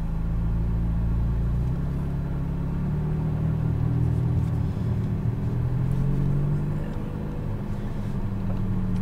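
McLaren 570S sports car on a race track, its engine a loud, steady low rumble from inside the cabin, the pitch climbing through the revs and then settling as it shifts up, with no talking.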